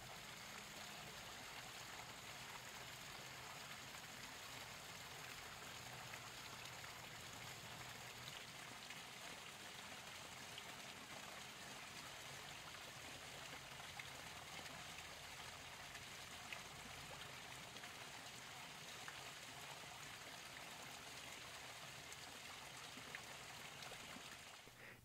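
Water trickling at a garden koi pond, picked up through an Opteka VM-200 shotgun mic: a steady, even, fairly soft stream of flowing water over a quiet outdoor backdrop, with no talking throughout.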